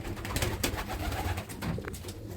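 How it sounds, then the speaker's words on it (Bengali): Soft, low pigeon coos fill a pigeon loft in overlapping bursts, steady and close, with a faint shuffling background. "এই আমার কবুতরের ঘরটা হচ্ছে আপনার এই।"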